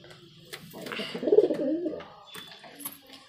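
Pigeons coo softly in a low, rolling murmur that swells near the middle of the clip, with faint chirps and background noise around it.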